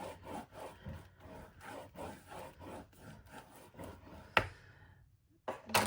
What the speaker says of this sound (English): I'm gonna give that a nice burnish.